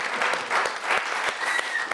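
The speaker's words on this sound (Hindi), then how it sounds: "कविता समाप्त हो गई है, तालियां बजाइए।" A crowd applauds at a Hindi poetry recital, a steady patter of many hands clapping together after a poem ends, fairly close and sustained without pause.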